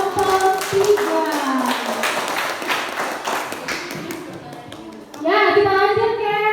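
Classroom applause for a student group after their presentation, a burst of many hands clapping among students, with a fresh swell of clapping near the end; children's voices mix in.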